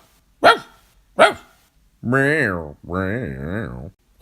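Two sharp, close dog barks, followed by a person drawing out a long two-part vocal imitation of the bark.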